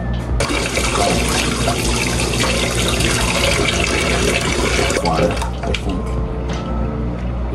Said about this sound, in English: Step two is to fill our pot up with water now.